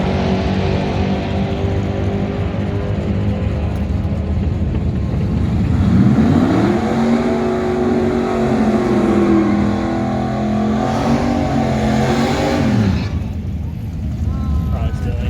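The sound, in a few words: drag racing car doing a burnout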